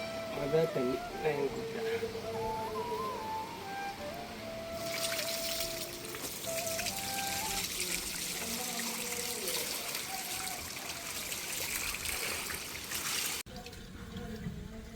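The first water from a newly installed borewell pump is poured over a Ganesha idol. It comes as a steady, splashing rush of running water that follows an opening stretch of talking, then stops abruptly.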